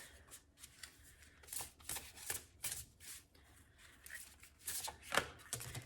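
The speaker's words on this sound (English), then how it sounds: "Let's get one more message from these lovely, lovely oracle cards." Oracle cards being shuffled by hand: a quiet, close series of irregular riffling bursts and soft papery slaps, with no talking.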